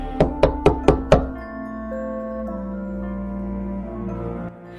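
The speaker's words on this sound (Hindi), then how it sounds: "अपने घर पर जाती है और दरवाजा खटखटाती है" Five quick, sharp knocks on a house door in a rapid even burst, close and loud, followed by a sustained musical tone underneath.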